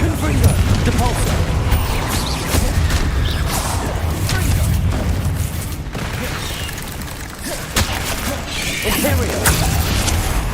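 Confringo and Depulso spell blasts in Hogwarts Legacy, a dense run of bangs, crashes and whooshing impacts over loud combat noise, with a voice speaking at times.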